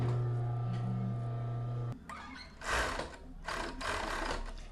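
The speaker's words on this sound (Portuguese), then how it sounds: "Passar o overlock e já fechar a lateral." An overlock sewing machine finishes the side seam of a children's garment, running in a steady mechanical hum before cutting out. Short bursts of handling noise and fabric movement follow.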